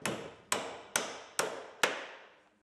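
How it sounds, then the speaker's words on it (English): Five evenly spaced, ringing hammer blows driving nails through extra hip battens into short batten pieces on a Sandtoft dry-hip roof, each strike sharp and close with a short decay. "we can fix our extra hip battens over the hip by nailing into the short pieces of batten."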